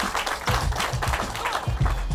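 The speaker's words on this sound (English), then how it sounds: "a big round of applause for our firefighters" A crowd applauds firefighters at a community event, a brief burst of scattered clapping at moderate distance, with some faint voices mixed in.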